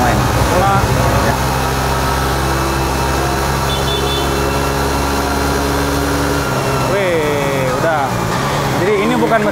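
A Suzuki GSX-R150 motorcycle engine started for the first time on a factory assembly line in Indonesia, a steady droning run amid loud factory hum, with someone talking over it.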